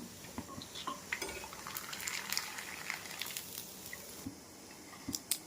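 Potato vathal frying in hot oil, heard as a close, scattered crackle of small pops and sizzling bursts that runs steadily throughout with no talking.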